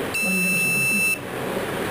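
A single sharp electronic beep from an event automation keypad, about one second long, loud and close over quiet background.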